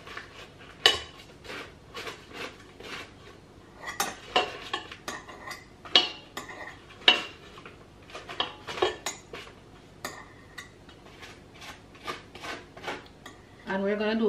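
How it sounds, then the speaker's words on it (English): Butter and sugar creamed in a bowl for a sorrel fruit cake: irregular close scraping and clinking of a utensil against the bowl, with brief gaps between strokes. "we are going to cream our butter and our sugar"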